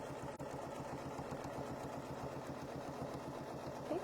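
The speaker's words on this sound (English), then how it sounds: "And once I do, then I'll be able to go ahead and sew." A sewing machine stitches a quilt block, running in a steady, even mechanical whir at close range with no pauses.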